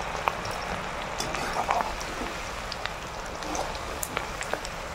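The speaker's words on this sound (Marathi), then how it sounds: "अशाच मस्त क्रिस्पी क्रिस्पी अशा मिरच्या तळून घ्यायच्या आहेत." Green chillies frying in oil over a low flame for chivda, giving a continuous dense sizzle with occasional small pops, steady and close throughout.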